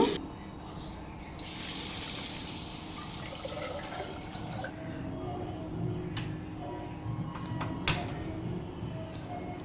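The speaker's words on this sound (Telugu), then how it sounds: "ఇప్పుడు ముందుగా నేను పులిహోరకి బియ్యం కడిగి ఎసరు పెట్టుకుంటున్నాను" Rice being washed in water in a home kitchen before cooking pulihora: running, splashing water with a steady wash of sound and a brief sharper clatter near the end.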